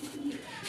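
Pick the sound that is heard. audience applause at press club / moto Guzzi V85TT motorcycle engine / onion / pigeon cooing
pigeon cooing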